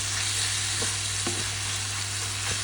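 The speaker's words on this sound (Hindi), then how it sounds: "मुझे हार्डली कि 15 मिनट से भिंडियाँ फ्राई की हैं, प्याज कट करके डाल दिया" Okra and sliced onion fry in a pan with a steady close sizzle and a few soft stirring scrapes; no one speaks.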